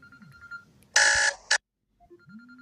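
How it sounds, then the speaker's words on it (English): An electronic alarm goes off in a loud buzzing burst of about a third of a second, then gives one shorter blast before falling quiet against faint background tones. "Y'all know I got a lot of alarms here."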